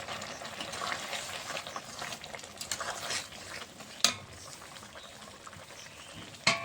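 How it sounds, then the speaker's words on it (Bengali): Bengali curry of leafy greens and vegetable stalks with shrimp bubbling in a pot, a soft continuous hiss and simmer broken by two sharp utensil clinks against the pot. "তরকারিটা ফুটে উঠেছে, দেখো ডাঁটাগুলো সিদ্ধ হয়ে গেছে।"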